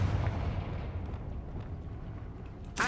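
Blasting-spell explosion in the Hogwarts Legacy video game: a deep rumbling boom that slowly decays over a few seconds, followed by a sharp new burst at the very end, loud and close.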